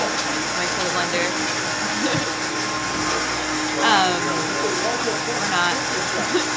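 A blender whirs continuously with a harsh steady motor whine, while a person talks briefly over the noise.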